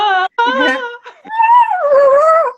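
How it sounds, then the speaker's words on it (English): Dogs bark and howl in a drawn-out, wavering chorus, loud and close, with yelping rises and falls, set off by a noise someone made in a woodland setting. "the dogs are barking now because I made that noise"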